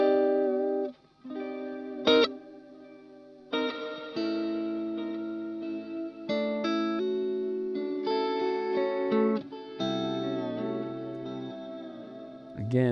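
Electric guitar runs through a Source Audio Encounter delay and reverb pedal, producing sustained, layered chords and notes that blur into long echoing trails and a thick ambient wash, loud and continuous throughout.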